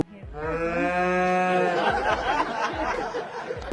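A cow lets out one long, loud moo nearby, followed by rough, noisy rustling.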